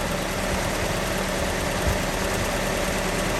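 A steady, broadband engine rumble from a Datsun 620 with a Weber 38 carburetor idles evenly throughout, close and constant with no voices, holding a slightly fast, unchanging pace from a slightly high idle.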